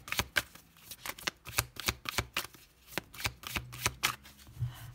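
Tarot cards being shuffled and laid out, a rapid run of crisp, close riffling flicks and slaps of card stock with no voices.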